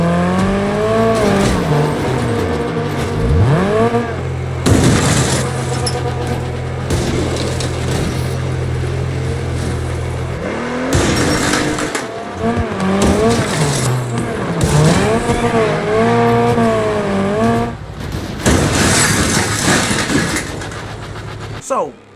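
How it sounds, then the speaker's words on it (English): Wreckfest 2 race cars roar and rev with gritty engine grunt, tires squealing and metal crunching in repeated collisions, loud and chaotic throughout with shifting pitches and impacts. "The crashes sound painful and impactful. Engines have a solid grunt to them"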